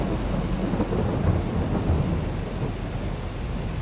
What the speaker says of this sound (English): Silaging in the rain.